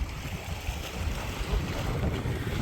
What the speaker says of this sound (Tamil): கொஞ்சம் காற்று அடிக்குது